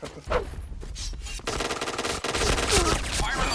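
Suppressed P90 submachine gun fire in a first-person shooter game, sustained rapid bursts that grow denser and louder, with a brief pause and a voice speaking faintly underneath.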